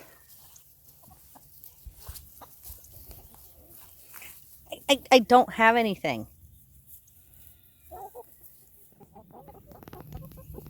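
A burst of loud, warbling clucks from chickens nearby, followed by softer scattered clucking, while a person speaks briefly.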